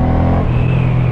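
Suzuki Intruder M1800R Boss, a big shaft-drive cruiser motorcycle, its engine droning steadily and then rising in pitch as it revs, close and fairly loud.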